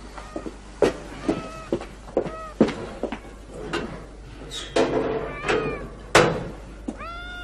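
A cat meows repeatedly, a series of short rising and falling cries at close range, interspersed with soft knocks and rustling, with no talk.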